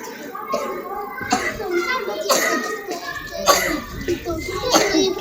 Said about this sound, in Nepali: खोकी लाग्यो?